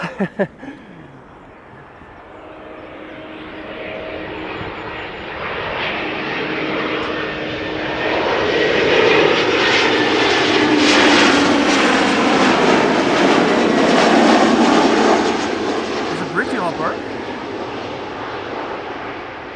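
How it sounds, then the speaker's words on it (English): An Embraer 190 airliner arriving at Amsterdam Schiphol Airport passes with a jet roar that builds, peaks loud and close, then fades away, heard alone without talk. "Embraer 190 arriving from Teesside or Darlington."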